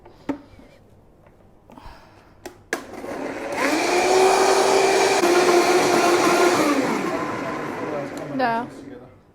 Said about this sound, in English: I want to blend it, and here's a bit of noise.